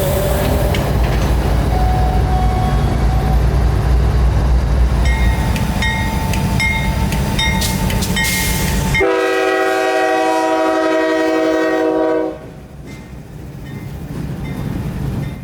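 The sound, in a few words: CSX freight train led by CW40-9 locomotive 9015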